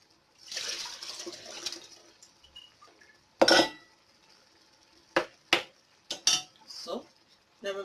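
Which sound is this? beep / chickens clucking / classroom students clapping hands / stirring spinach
stirring spinach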